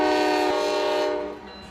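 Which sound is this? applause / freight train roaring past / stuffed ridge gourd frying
freight train roaring past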